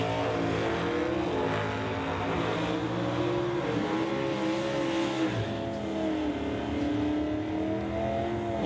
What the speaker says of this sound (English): the Blue Mustang will be heading down track first